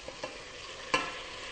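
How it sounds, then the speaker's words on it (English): Chopped tomatoes dropped into a hot pot of sizzling fish soup base, a steady frying hiss with a couple of soft taps, then one sharp splash of sizzle as they land, close and alone. "And now I'm going to add the tomatoes."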